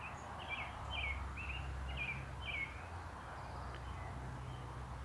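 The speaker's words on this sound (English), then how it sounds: "So right now there's some robins that are singing." Robins sing in the evening, a series of about five short chirping phrases at moderate distance over a faint low rumble of wind and distant traffic, then quieter ambience.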